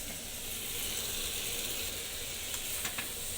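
Ridge gourd and potatoes frying in a pan give off a steady, close sizzling hiss with a few faint clicks near the end, and no talking.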